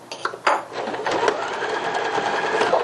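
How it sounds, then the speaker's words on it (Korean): A sewing machine backstitches while stitching a child's strappy sleeveless dress: a few short starting bursts, then steady, close, fairly loud running of the needle. "고정 박음질 해주시면 됩니다"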